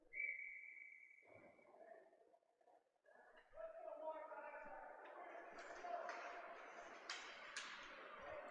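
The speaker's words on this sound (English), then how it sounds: "That's whistled down for offside, as Andrew Snyder couldn't keep his feet on" A referee blows a sharp whistle for offside during a varsity high school ice hockey game; the steady blast comes first, then arena crowd noise and puck and stick clatter follow, with no talk.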